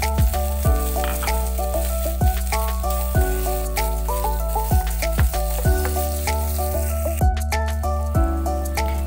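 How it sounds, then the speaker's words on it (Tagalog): Onion sautéing in a pan for a sardines and pechay dish, a steady sizzle beneath a prominent looping instrumental melody with regular plucked notes, no voices. "Patuloy na gisahin hanggang maging translucent ang sibuyas"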